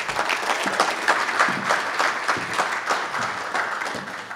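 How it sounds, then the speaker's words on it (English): Steady, dense applause from an audience at an American Indian writers' festival award ceremony, continuing unbroken for several seconds with no talking. "So let's give a round of applause to our good friend, your good friend, Mr. Will Hill"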